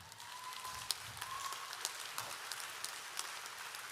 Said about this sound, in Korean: 듣기 원하시는 분들은 박수 한번 치시죠.